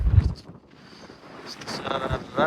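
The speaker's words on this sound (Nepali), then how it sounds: "हावा लगाइरहेको बहुत हावा लाग्यो" Strong wind gusts buffet the microphone on a mountain road in Mustang near Jomsom, rising and falling in rough bursts as a person talks over the rush.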